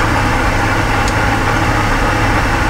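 Game-simulated PAZ 3205R bus engine in OMSI 2 speeding up on a route, a steady, loud, dense drone with a low rumble throughout, no voices over it.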